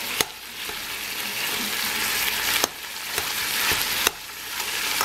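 Ground pork sizzles and fries in a pan over medium heat, a constant crackling hiss broken by a few sharp scraping stirs of a utensil, close and fairly soft.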